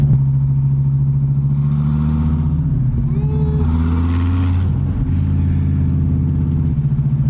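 A wrecked and rebuilt 2014 Dodge Viper TA Time Attack engine heard from inside while driving, a loud continuous low rumble with slight pitch shifts as the revs change.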